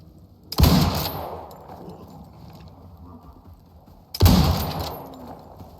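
Two loud, booming gunshots in the Icarus survival game, fired while hunting a bear, spaced about three and a half seconds apart, each with a long rolling decay into the quiet outdoor ambience.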